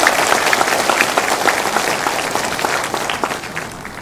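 Concert crowd applause for a male singer at a Vietnamese music gala in Dallas, a thick, sustained roar of clapping from a large audience that eases slightly toward the end.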